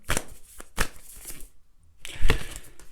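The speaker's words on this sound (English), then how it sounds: "I'm going to shuffle these cards." Tarot cards being shuffled by hand, several quick riffling bursts with brief pauses between, close and fairly loud, with no talking.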